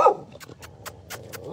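A temple dog whimpers and whines excitedly in short repeated bursts, close and fairly quiet, with faint background murmur.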